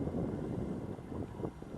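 Steady outdoor wind buffeting a microphone while an HobbyKing 1100mm EPP Sbach 342 RC plane flies. A continuous low rumbling roar with mild gusty fluctuation and no other clear sounds.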